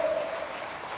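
A church congregation clapping hands together during a Pentecostal service, a brief continuous patter of applause at moderate volume with no talk over it.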